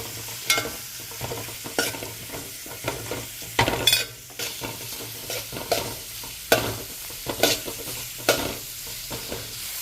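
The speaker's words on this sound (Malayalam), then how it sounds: "ഇനി നമുക്കിത് നന്നായിട്ട് ഇളക്കി കൊടുക്കാം" Chicken curry is stirred in a pan with repeated scrapes and clinks of the spoon against metal over a soft, continuous sizzle, heard close and unaccompanied by speech.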